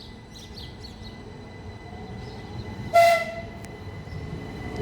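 A Southeastern class 375 electric passenger train, 375818, passes Tonbridge station on a Ramsgate to London Charing Cross service. A low rumble sits under a faint tonal whine, with one short, sharp burst midway and distant birds.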